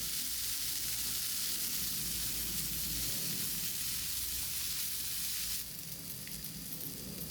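Tomato with turmeric and chili powder frying in a pan, giving a loud, dense, continuous sizzle that drops slightly in level near the end, with no talking over it.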